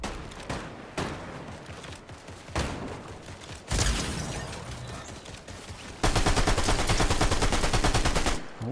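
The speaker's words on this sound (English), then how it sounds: "And this shotgun is trash." A shotgun fires in the Fortnite video game: several sharp blasts spaced a second or two apart, then a dense rapid burst of shots near the end, loud and close.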